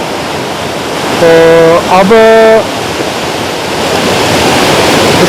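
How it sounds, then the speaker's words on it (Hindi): Sandhoa waterfall in Samahni valley, Azad Jammu Kashmir, roars steadily and loudly close by while someone speaks briefly over the rushing water. "जो ये आबशार है, झरना है, इसका पानी नीचे गिर रहा है"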